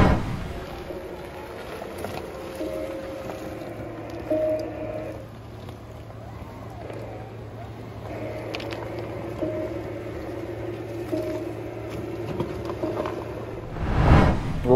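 A Mazda CX-80 plug-in hybrid reversing, its quiet artificial pedestrian warning sound forming a soft sustained tone that pauses briefly midway and resumes, faint over low road noise.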